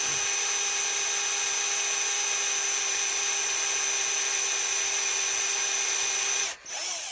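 A power drill whines at a constant high pitch drilling into a Suzuki FZ50 motorcycle engine's metal, running steadily and loud for several seconds before briefly cutting out and spinning back up.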